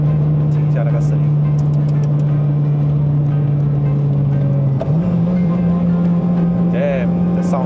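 A 2008 Honda Civic Type R FD2 engine while driving, a steady close cabin drone holding one pitch, then shifting slightly higher near the end, with a voice talking briefly over it.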